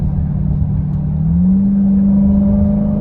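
A 2021 Dodge Durango Hellcat engine revving during a paddle-shift, a loud, steady close rumble whose pitch climbs smoothly midway and holds, with no voices over it.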